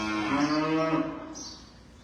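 A cow that has had milk fever moos loudly and close by, one long harmonic call that fades out toward the end, with faint birdsong in the background.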